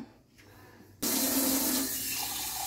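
Tap water runs onto dough for jibhe goja, a Bengali sweet, with a sudden close, steady gush that starts about a second in after near silence and continues to the end, with no talking.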